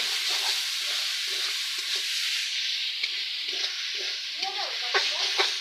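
Masala with a little potato being sautéed and stirred in a pan for chickpeas, a steady sizzle with scraping spoon strokes at close range and no talk.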